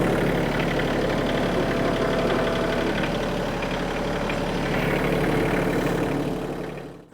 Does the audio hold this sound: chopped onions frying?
no